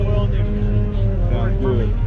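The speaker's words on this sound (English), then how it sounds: "He just started that Falcon up. Y'all heard it." A Ford Falcon with side pipes idles at a car show, its carbureted engine giving a steady, loud, deep rumble throughout, close by, with people talking over it.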